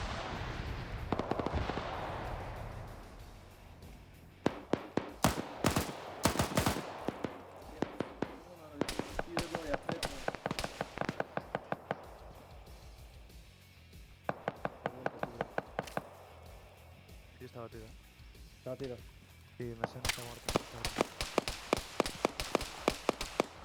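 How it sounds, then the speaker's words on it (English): Suppressive gunfire in a military strategy video game crackles as sharp, repeated shots and bursts, some in rapid clusters, with distant booms and rumbling between them, while commentators talk throughout. "just suppressive fire coming up"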